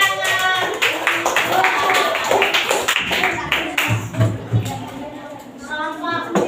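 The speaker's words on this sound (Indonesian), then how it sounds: "tepuk tangan." Children clap in a classroom. The irregular, uneven claps are mixed in with lively children's voices and an adult talking nearby throughout.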